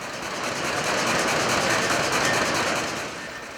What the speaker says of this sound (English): It is a two-stroke, direct-injected diesel engine and was originally used to drive a line shaft at a sugar beet factory in Ohio.